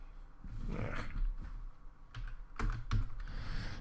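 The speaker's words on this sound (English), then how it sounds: "I still haven't gotten used to this wonky keyboard." Close, steady clatter of keys on a wonky computer keyboard, typed while programming a C DirectX game, with a few sharper bursts of keystrokes near the end.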